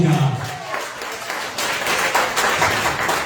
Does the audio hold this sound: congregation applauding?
yes